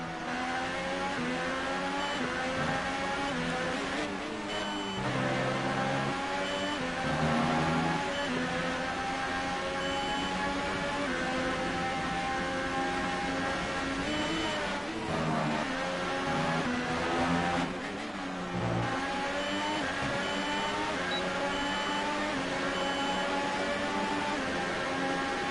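McLaren Formula 1 car engine from the F1 2018 racing game at the Austrian circuit, a loud, continuous high-pitched whine that rises and falls with gear changes and revving throughout.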